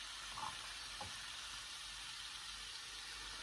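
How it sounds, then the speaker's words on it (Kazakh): Meat fries in oil in a pan for a Korean-style funchoza salad, a quiet steady sizzle with a brief stir or clink near the start. "Майымызды құйып, осылай етімізді салып, жақсылап қуырып аламыз."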